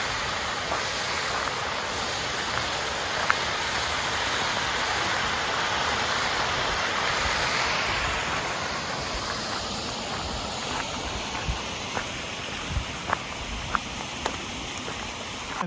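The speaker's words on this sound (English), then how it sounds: "hiking to the sound of rushing water" Rushing water beside a hiking trail on the Virginia Triple Crown: a constant broad roar of a stream or cascade, steady and fairly close throughout, with occasional faint clicks and footstep-like knocks over the wash.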